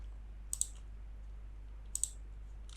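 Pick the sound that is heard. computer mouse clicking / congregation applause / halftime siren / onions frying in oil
computer mouse clicking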